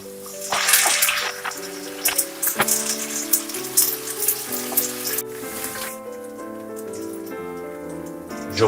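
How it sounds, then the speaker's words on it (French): A saffron and garlic mixture cooks in a pan while being stirred, giving soft sizzling and scattered clinks and scrapes, heard alongside background music with no talk. "Je poursuis la cuisson en remuant pendant encore 5 minutes."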